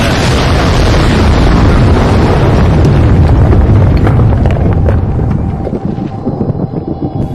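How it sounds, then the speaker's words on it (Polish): Heavy explosions in Minecraft rumble and boom in a dense, continuous barrage, loud and deep, fading into scattered crackles and softer blasts toward the end. "Często słychać te wybuchy."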